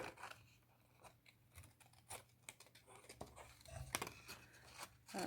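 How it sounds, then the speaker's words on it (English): Scissors cut across a sheet of water slide paper, giving a series of faint, crisp snips and papery rustles at close range, irregularly spaced and quiet. "I'm going to cut it all the way across."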